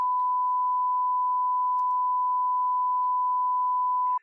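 A single steady censor bleep tone holds for about four seconds on a podcast, alone and unbroken, then cuts off abruptly.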